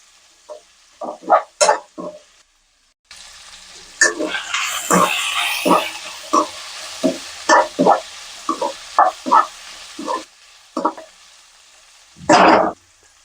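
Chopped vegetables and capsicum sizzle loudly in a hot pan for veg fried rice, with a steady frying hiss broken by repeated scraping stirs of a spatula, close up.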